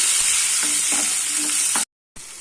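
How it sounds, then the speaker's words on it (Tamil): Chopped tomato sautéing with softened onion in a pan for a manathakkali greens chutney: a steady, close sizzle and fry hiss with a few soft stirring knocks, then a brief cut to silence before the sizzle resumes. "ஒரு தக்காளி கொஞ்சம் வதங்கட்டும்"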